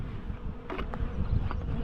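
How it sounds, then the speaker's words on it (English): A honey bee buzzes close around a beekeeper during a nucleus colony transfer into a hive, a steady insect drone with a few louder passes near the microphone over outdoor background noise. "We've got a bee trying to get me."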